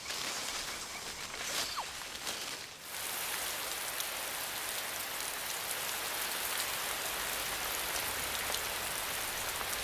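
Steady rain pours through an Andean cloud forest, a dense, even hiss of drops on leaves, loud and continuous with a brief dip near the start.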